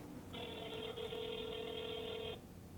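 A single telephone ringback tone sounds on an outgoing call, one steady electronic ring lasting about two seconds with quiet line noise before and after.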